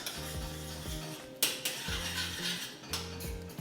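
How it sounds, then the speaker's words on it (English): A spoon stirs kidney bean curry in a pot, making repeated scraping and clinking strokes against the pot with a soft bubbling undertone and a few sharper knocks, close by and without talk. "Give it a really nice stir so it all mixes and blends."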